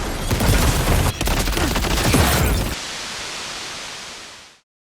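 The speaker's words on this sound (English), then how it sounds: "Let the bullets fly." Dense, loud gunfire in the video game Death Stranding 2, a rapid stream of overlapping shots for a few seconds that then drops to a noisy hiss and fades out, with no talking.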